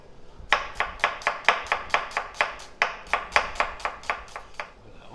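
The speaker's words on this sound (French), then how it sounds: "On va émincer un oignon rouge" Knife slicing a red onion on a cutting board, a quick steady run of crisp, close chops, about twenty evenly spaced cuts with no talk.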